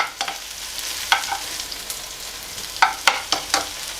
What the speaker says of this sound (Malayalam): ചെറിയുള്ളി ഒന്ന് നന്നായിട്ട് മൂപ്പിച്ചെടുത്തിട്ട് നമുക്ക് ഈ കഞ്ഞിയിലേക്ക് ഒഴിച്ചു കൊടുക്കാം